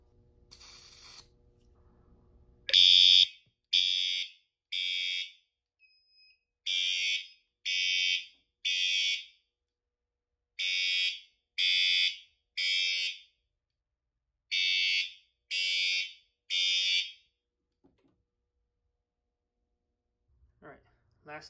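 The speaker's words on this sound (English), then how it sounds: "Now let's set off this smoke detector." A fire alarm triggered by a smoke detector on an FCI 7100 panel blares in loud, evenly spaced beeping bursts with brief silences between them, then stops, leaving near silence.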